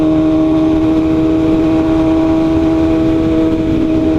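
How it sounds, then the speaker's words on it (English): Motorcycles and oncoming road traffic passing close by, a loud sustained engine drone with steady mid-pitched tones, heard from a riding motorcyclist's perspective without talk. "Oncoming traffic."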